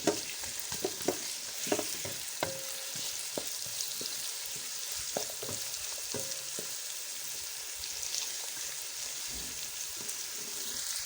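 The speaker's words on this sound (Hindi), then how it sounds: "फ्लेम थोड़ा तेज़ करेंगे। प्याज़ों को हमने फ्राई करना है।" Onions frying on a hot tawa give a steady, close sizzle throughout, broken by occasional sharp clicks and scrapes of stirring, with no voices.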